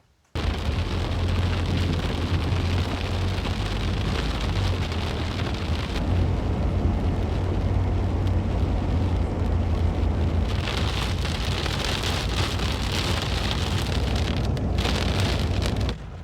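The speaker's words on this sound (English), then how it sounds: "The rain has followed us all the way to the monastery" Heavy rain falls outdoors on the way to the Crna Reka Monastery in Tutin, Serbia, a loud, dense, continuous hiss with low rumbling underneath.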